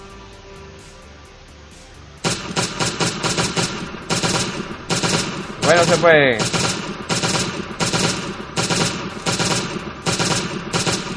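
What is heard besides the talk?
gunfire from Last Day On Earth: Survival video game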